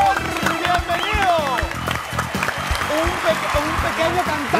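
A television studio audience applauds and cheers for a singer, a loud, dense burst of clapping and crowd noise with voices talking over it throughout.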